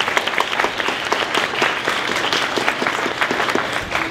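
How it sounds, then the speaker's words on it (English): Steady audience applause fills a school breakfast event honoring the counseling department, dense clapping from a room of people, loud and continuous throughout with no talk over it. "So if we can give a round of applause to our counseling department."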